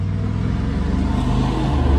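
A BMW car engine with an N52 engine idles close by with a deep, steady rumble and a slight rise in revs toward the end.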